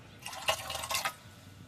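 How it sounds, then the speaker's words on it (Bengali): Water poured into a soot-smeared pressure cooker holding lentils, a short trickling, splashing fill in two brief bursts, near and fairly quiet, with no voices. "পরিমাণ মতো জল দিয়ে দিয়েছি"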